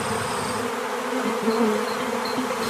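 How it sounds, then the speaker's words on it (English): Honey bees swarm at a hive entrance, a dense, close buzzing drone of many wings that hums steadily throughout with slight rising and falling swells. "the bees started coming out of the hive very, very quickly"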